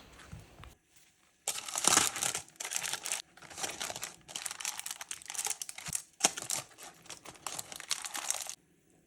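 Parchment paper crinkles and rustles in a 20 cm cake tin as croissant halves are pressed into it, crisp close crackling in irregular bursts with short pauses between.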